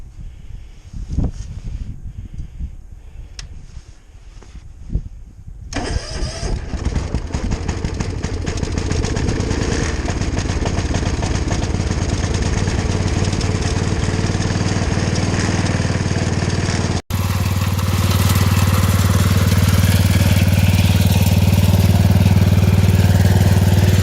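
An old car engine cranks on its original starter with a few uneven turns, then catches and runs, settling into a steady, loud, close rumble that continues to the end.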